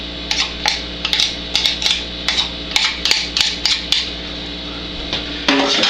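A utensil scrapes and knocks against a pot while homemade apple sauce is scraped in, a loud irregular series of close clanks and taps with a brief scrape at the end.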